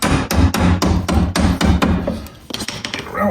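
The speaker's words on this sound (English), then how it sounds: "If not, a few taps of our hammer here." A hammer taps out a bolt on a C8 Corvette's suspension, giving about eight sharp, evenly spaced metallic blows up close, followed by a few lighter, quicker taps.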